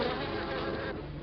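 Dense, continuous buzzing of honeybees clinging to dead vines in Australia, a steady close drone with no pauses and no voices.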